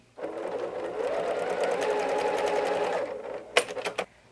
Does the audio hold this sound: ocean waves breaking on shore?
no